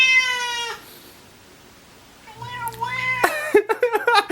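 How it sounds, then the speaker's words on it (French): An angry house cat caterwauls with long, strained meows up close, one drawn-out cry followed after a pause by a rising yowl and a string of sharp, agitated calls, with no speech. "Mon chat est furieux parce qu'on a de la visite sur le balcon."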